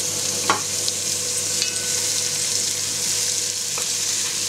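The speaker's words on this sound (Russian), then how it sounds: "И обжариваем его в казанке" Meat frying in a kazan cauldron hisses in a steady, close sizzle, broken by a few quick scrapes or clinks of a stirring utensil against the metal.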